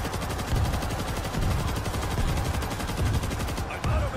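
Rapid bursts of gunfire from a zombie video game, repeated thuds and crackles filling the whole stretch at steady loudness with a dense, continuous rattle.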